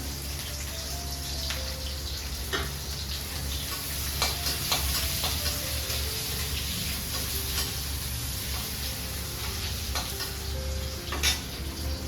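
Onions fry in a pan at home, a constant loud sizzle with scattered crackles and occasional stirring scrapes, no voices over it.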